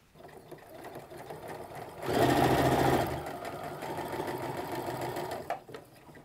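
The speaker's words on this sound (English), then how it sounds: "feed a bunch of these guys through the sewing machine with that 1/2 inch stitch" A sewing machine stitching apron waistband straps runs in a steady mechanical whir, loudest in one short burst, then continuing at a lower hum before stopping.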